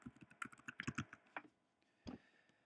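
Quick clattering keystrokes on a computer keyboard, a short burst of close, crisp taps followed by a pause and one final key press, heard alone in a quiet room.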